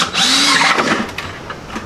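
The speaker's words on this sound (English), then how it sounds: "drill your hole," Power drill boring holes through a plastic bucket, a loud, steady high-pitched whine with rising motor pitch and grinding bite that fades out near the end, no talking.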